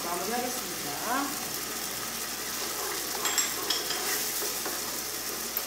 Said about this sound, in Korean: 이 정도로 걸쭉하게 되면 마지막으로 참기름 넣어서 마무리하겠습니다.